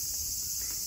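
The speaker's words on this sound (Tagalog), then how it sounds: "Kuliglig ba yan? Maririnig mo dyan." Crickets chirp in a backyard on a hot summer day, making a steady, continuous high-pitched trill that is moderately loud and heard alone.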